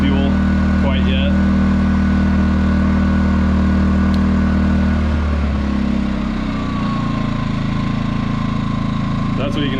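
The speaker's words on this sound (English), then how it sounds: "That's what you can expect when it's just idling." Harbor Freight Predator 2000 watt inverter generator idling, a steady, loud, close engine hum that drops slightly in pitch partway through and then holds even.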